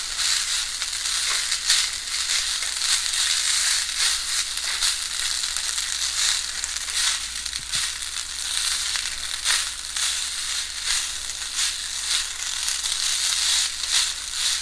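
Rice with black pepper is stir fried in a pan, a steady crackling sizzle with frequent dry scraping and tossing sounds from the utensil, close and continuous, with no one talking.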